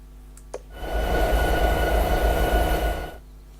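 Diesel locomotive in a Train Simulator 2016 game rolling along the track, a steady loud low rumble with a faint tonal hum that swells in after a short click and holds for about two and a half seconds before fading.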